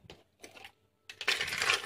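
A couple of light clinks, then a louder rattling clatter of ice cubes tumbling into a cup for an iced drink with sweetened condensed milk, close up.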